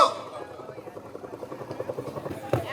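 Helicopter rotor chopping steadily at moderate distance, a rhythmic pulsing beat under people talking, with a louder thump near the end.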